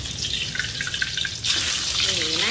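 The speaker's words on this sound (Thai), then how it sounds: "ปลาเขาเริ่มเหลืองแล้วนะคะเขาก็จะล่อนออกจากกระทะแบบนี้ค่ะ" Pieces of mackerel fry in reused oil in a pan with a steady, loud hiss and crackle that grows denser and stronger partway through.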